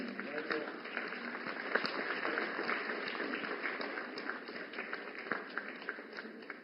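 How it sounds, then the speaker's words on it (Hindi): Audience applause greets a woman receiving a drone at a live Sashakt Nari Viksit Bharat programme in New Delhi, a dense, steady wash of clapping that runs evenly throughout without spoken voices. "जोरदार तालियों से स्वागत करें हमारी नमो ड्रोन दीदी का"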